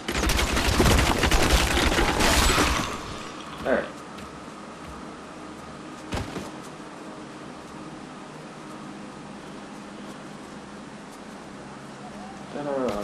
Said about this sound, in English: Oh wait, you're shooting things.